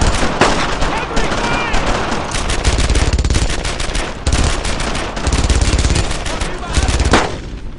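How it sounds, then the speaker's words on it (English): Dense, sustained gunfire in the World War II shooter Brothers in Arms 2, with rapid machine-gun bursts and overlapping rifle shots in steady rhythm and short gaps, while soldiers shout over the battle. "Firing! Firing!"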